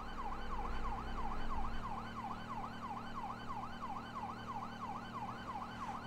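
Police car siren in GTA 5, a rapid rising-and-falling wail repeating steadily, loud and continuous over a low engine rumble.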